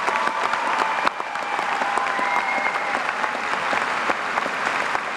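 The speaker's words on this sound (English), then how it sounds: "join me in one more round of applause for these fine individuals" A large audience at a 2013 high school graduation ceremony applauds steadily, a dense, even wash of clapping that holds at the same level from start to finish.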